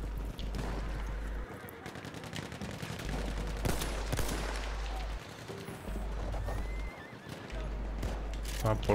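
Horse whinnying in the World War I shooter Battlefield 1, heard amid dense gunfire and machine-gun bursts with hoof clip-clops, while players talk over the game noise.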